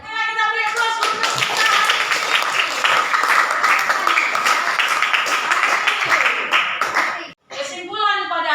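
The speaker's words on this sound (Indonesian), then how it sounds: "Kita beri aplaus untuk" Classroom applause from a group of students fills nearly the whole stretch, dense and steady clapping at close range, cutting off abruptly near the end before a voice begins speaking.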